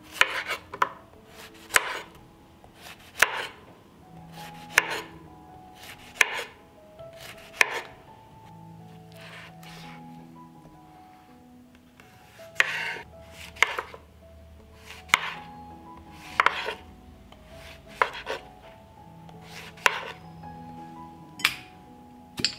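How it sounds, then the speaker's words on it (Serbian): A knife cutting two washed zucchini into thick rounds on a board, giving a steady series of sharp close chops in bursts, with brief pauses and small clinks between them. "Tikvice ću iseći na malo deblje kolutove."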